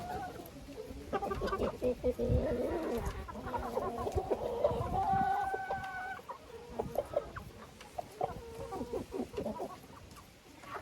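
Chickens clucking nearby in irregular bursts, a rooster's throaty calls mixed with softer chick peeps, with quiet shuffling in between.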